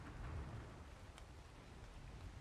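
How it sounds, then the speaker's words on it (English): Steady rain hissing in the video game Ark Survival Evolved, a continuous wash of drops with a low rumbling undertone, moderately quiet and alone without voices. "here comes the rain again"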